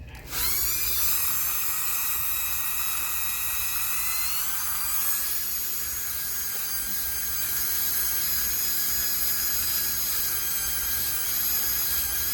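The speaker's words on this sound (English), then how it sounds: "It's just easier to use my Dremel, not over my desk." A Dremel rotary tool polishes a polymer clay pendant, spinning up with a rising whine, then holding a close, steady high-pitched buzz for several seconds without talk.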